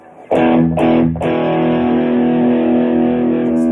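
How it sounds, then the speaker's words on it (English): A distorted electric guitar through a distortion pedal hits two quick chords, then lets a third ring out long, thick and loud with sustained high gain. "add the pedal now. We're going to get some, a little bit higher gain, some distortion going"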